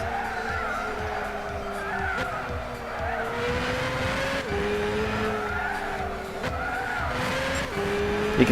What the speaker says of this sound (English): Carl, don't spin out, cause that's what's gonna be a setback for me, spinning out into the corners